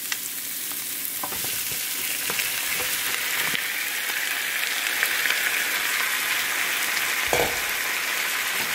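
Softened pork feet sizzling and frying in a pan for pork humba, a steady loud crackle with a few clattering stirring knocks, no voices.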